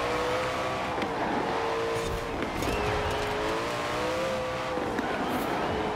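A Koenigsegg Jesko engine in Forza Horizon 4 howls steadily at high revs, with its pitch rising and falling through gear changes and a brief tire squeal, loud and close throughout.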